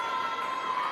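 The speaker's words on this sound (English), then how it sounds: "Big cheer for number 12." Crowd at a girls' high school volleyball match cheering for player number 12, a steady, loud wash of voices and shouts from a gym full of spectators lasting the whole moment without a break.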